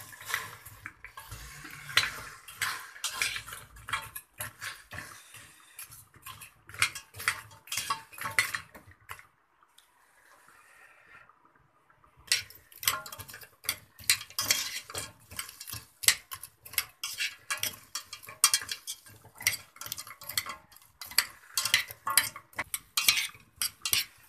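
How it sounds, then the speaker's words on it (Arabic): Frozen okra sautéed in ghee with garlic in a pan brings close, busy clinks and scrapes of a utensil against metal, with a short quiet gap midway before the stirring resumes. "هفضل اشوح فيها لحد ما تتشرب من الثوم والسمنه"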